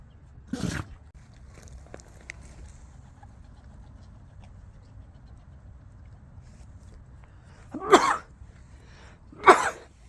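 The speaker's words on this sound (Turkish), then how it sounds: "Terleyince mi yoksa hapşırıyoruz." Three short, sharp sneeze-like bursts, with the first near the start and two more close together near the end, stand out against a quiet background of faint clucking and rustling.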